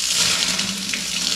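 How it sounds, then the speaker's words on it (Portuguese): Hot-water tap running steadily into a kitchen sink, a continuous close hiss and splash of flowing water with no voices. "Bota pra água quente agora."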